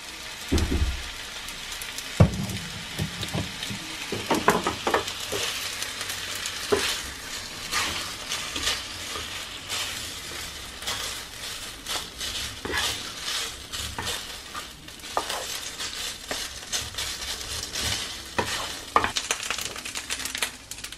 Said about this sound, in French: on va rajouter un peu de sauce okonomiyaki à l'intérieur et on va faire cuire l'ensemble